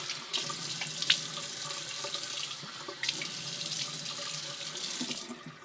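Water runs from a sink tap to wet the face before a shave, a steady close splashing stream with a few sharper splats as hands move through it, fading off at the end.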